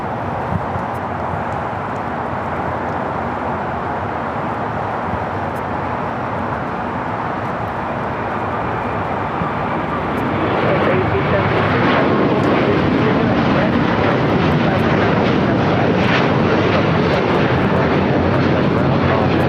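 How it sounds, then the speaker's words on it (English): A Qatar Airways Airbus A350-1000 takes off from LAX, its engine rumble building sharply about halfway through into a loud, sustained roar, with voices talking over parts of it. "That was Qatar Airways Flight 742 taking off to Doha on the A350 1000."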